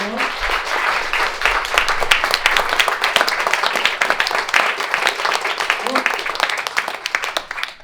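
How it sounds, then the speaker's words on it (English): A large audience at an Anti-Slavery Day panel discussion bursts into sustained, loud applause, dense clapping holding steady for several seconds before easing slightly at the end. "A huge round of applause for our panel."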